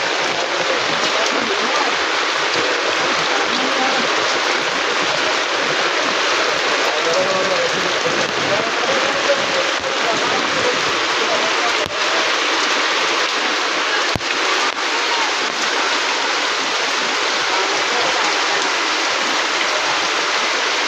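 Floodwater rushing through a Rohingya refugee camp near Cox's Bazar after heavy rain, a constant broadband hiss of flowing water and rainfall, steady and enveloping for the whole stretch, with occasional faint voices.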